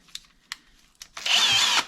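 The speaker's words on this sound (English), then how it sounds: "what we want to do is drill into here and relieve the pressure so that we can collapse the shock" A few sharp clicks, then a close power drill with a 1/8-inch bit whirs loudly for under a second as it bites into the metal shock absorber of a 1984 Bertone X1/9.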